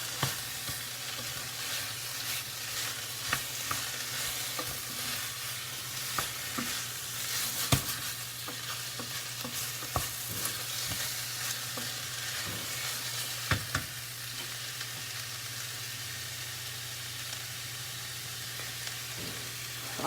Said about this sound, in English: we're gonna add our beef right back. Mix this around.